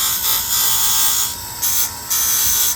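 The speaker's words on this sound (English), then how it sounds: "And then I'm going to do the sandpaper roll again, just lightly" A sandpaper roll lightly smoothing the raker of a chainsaw race chain gives a close, steady high-pitched whirring buzz in several bursts, rising and easing back as it touches the metal.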